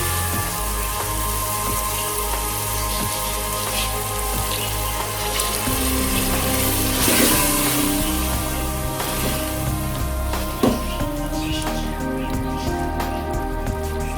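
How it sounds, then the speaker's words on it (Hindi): Water hisses and sizzles as it is poured into a hot pan of green beans being cooked for aloo phali sabzi, a loud, continuous crackling spatter that lasts throughout. "अब हम इसमें थोड़ा सा पानी ऐड करेंगे ताकि फलियां थोड़ी गल जाएं।"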